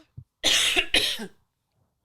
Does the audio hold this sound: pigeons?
no